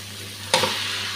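Mixed masala paste goes into a pan of frying tomato and onion, a sudden splash and hiss that settles into a steady, fairly loud sizzle, with a low hum underneath and no talk.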